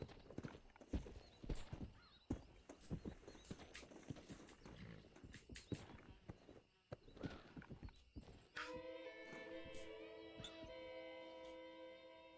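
Horse hooves clip-clopping in the video game Red Dead Redemption, an irregular run of hoof strikes with a whinny, followed by sustained musical tones from the game.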